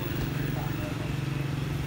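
Motorcycle taxis rumble along a busy street in Qiling, Shiling town, Huadu district of Guangzhou, a steady low engine drone close by, with someone talking over it.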